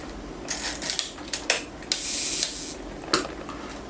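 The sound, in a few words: Rollei 35 film camera shutter firing at half second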